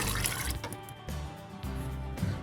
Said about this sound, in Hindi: इसके बाद एक कटोरी पानी इसमें मैं ऐड कर रही हूँ।